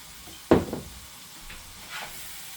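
About a tablespoon of vinegar splashes into a pan of hot sofrito, causing a sudden loud hiss that fades quickly into a lower, steady sizzle with a few quieter flare-ups.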